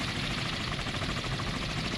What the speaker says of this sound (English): I'm going to send my helicopter over to this contact here.